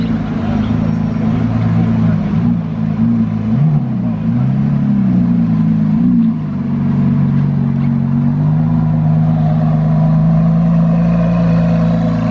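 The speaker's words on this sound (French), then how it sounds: "Il y a la SVJ Roadster qui décolle." Lamborghini SVJ Roadster accelerating away among other supercars, its loud engine drone rising and shifting in pitch over continuous traffic noise.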